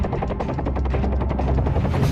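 Helicopters flying low over the sea make a steady, loud rotor roar with a rapid rhythmic chop that fills the whole stretch without pause.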